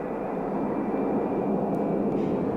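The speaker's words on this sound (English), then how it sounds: "When the B-52 finally began to taxi toward the end of the runway" A B-52 bomber taxies toward the end of the runway, its engines producing a loud, steady broadband roar with a constant tone running through it, unbroken and close throughout.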